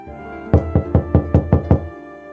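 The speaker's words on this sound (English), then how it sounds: "Oh, someone's at the door." Seven evenly spaced knocks on a door in a Nicktoons Unite game, sharp and close, in a steady rhythm with nothing else over them.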